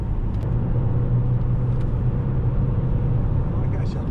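An Opel Insignia 1.6 Turbo 170 HP sedan cruising at 115 km/h, just above 2000 rpm, gives a steady, loud low engine and road rumble inside the cabin that holds evenly throughout.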